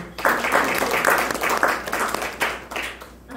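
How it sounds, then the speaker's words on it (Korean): A lecture audience claps at the start of a talk, a lively round of many hands that swells in uneven bursts close by and fades slightly before rising again. "박수."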